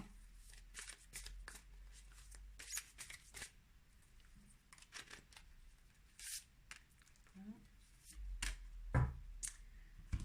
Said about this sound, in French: on va rajouter des cartes de l'oracle de l'intuition ici, donc deux cartes supplémentaires pour le tas numéro 3